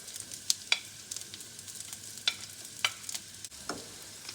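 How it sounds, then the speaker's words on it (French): Onion, shallot and garlic sauté in a pan at a quiet crackle, broken by several sharp clinks and scrapes of a utensil at uneven intervals. "Je commence par faire revenir l'oignon, l'échalote et l'ail"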